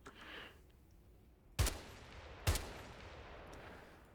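Two sharp, loud gunshots spaced about a second apart ring out in the video game Dollchan 8: Infinity over a quiet background hiss, with no talking.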